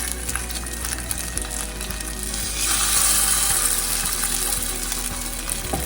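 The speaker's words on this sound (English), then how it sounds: "heat the frying pan and add some sesame oil. And we're gonna saute the buns." Buns made of rice sauté in sesame oil in a hot frying pan, giving a steady close sizzle and crackle that grows louder and denser partway through, with no talking.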